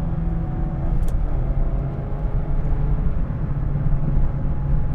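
Inside a stock-plus 2016-era Mazda Miata RF ND1 on the road, a low steady engine and road rumble drones on at moderate level, with no one talking.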